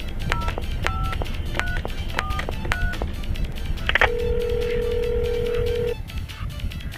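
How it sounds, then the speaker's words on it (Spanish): A phone number is keyed in as a quick run of separate touch-tone beeps, followed by one long, steady tone, with a faint rhythmic beat underneath. "toma el teléfono y hace una llamada"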